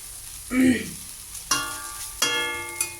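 Grated taro sizzles as it fries in oil in a kadai for a Bengali kochu fry, a soft hiss that flares in a few short bursts at modest volume.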